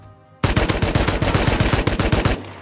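A silenced AK rifle in the video game Rust fires a rapid, continuous burst of roughly a dozen and a half sharp cracks over about two seconds, loud and close, with no talk over it.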